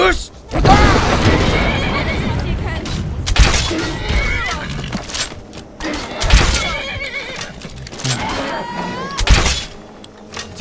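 A horse in the Skyrim video game whinnies loudly several times, with hoof clops and thuds mixed in, while someone talks over it.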